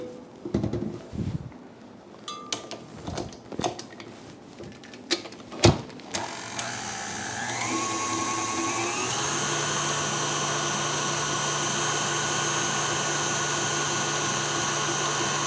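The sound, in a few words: electric mixer beating cream into butter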